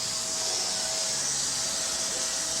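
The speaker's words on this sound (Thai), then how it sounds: "สอนหลานให้ดูดฝุ่น" A vacuum cleaner runs at home with a steady, close, high-pitched whooshing drone that holds evenly throughout.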